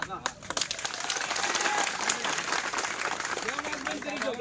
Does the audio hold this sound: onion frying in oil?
no